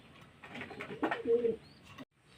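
Domestic pigeons coo in a short, close, moderately loud burst of low throaty notes, with faint wing or movement noise around them and no talking.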